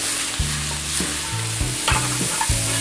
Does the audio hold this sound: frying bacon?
yes